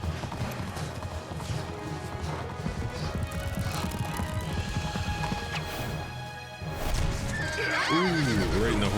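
Horse whinnying in the fantasy video game White Knight Chronicles II, loud and close, mixed with hoof clatter and impact crashes from battle, a rising neigh near the end, with speech in the background.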